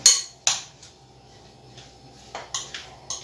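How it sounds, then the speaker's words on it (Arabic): A utensil clinks against a bowl while food is mixed, a few sharp taps near the start and a quicker cluster of clinks toward the end, close and clear with quiet moments between. "نخلط مزيان"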